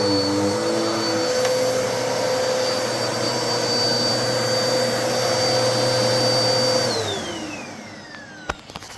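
A Bissell Cleanview 2492 vacuum cleaner running with a loud, steady motor whine and airflow roar, alone and close, its pitch dropping as it winds down near the end, followed by a couple of clicks.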